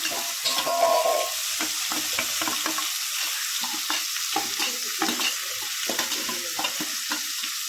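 Onions frying in a pan while being stirred for poha, a steady close sizzle with scraping spoon strokes and clinks throughout, no talking.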